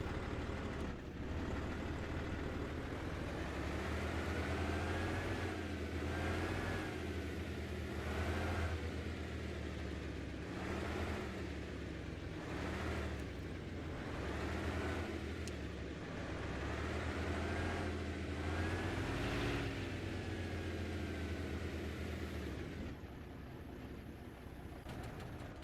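A truck engine from a video game on a community Livonia map runs under load, a low droning rumble that rises and falls repeatedly with gear changes and revving, steady and continuous with no talk.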